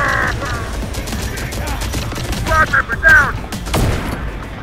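Rapid gunfire bursts targeting turrets in the video game Terminator: Dark Fate - Defiance, loud crackling volleys mixed with battle noise and electronic tones, with a voice shouting over it.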